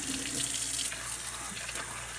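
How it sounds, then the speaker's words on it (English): Cool water runs steadily from a sink faucet into a bowl set down in the sink, a continuous close splashing hiss with no talking. "I'm going to just run cool water now"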